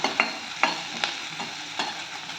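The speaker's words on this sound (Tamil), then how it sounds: "நீல வாக்கில் கட் பண்ண பெரிய வெங்காயம் ஒன்று நல்லா கிளறி கொடுத்துக்கலாம்" Sliced onions fry in a pan with spices while a spoon stirs them, giving a soft steady sizzle broken by several sharp scraping clicks at irregular intervals.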